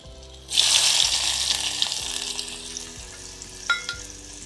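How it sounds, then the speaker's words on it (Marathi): Chopped onion dropped into hot oil with fried garlic for a whole masoor curry, a sudden loud burst of sizzling that settles into steady frying with a couple of spoon clinks. "मी आता यामध्ये कांदा ॲड करते"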